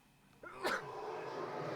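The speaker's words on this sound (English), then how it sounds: "Gesundheit." A single sharp sneeze in an Everhood game scene, sudden and fairly close, followed by a steady background hum.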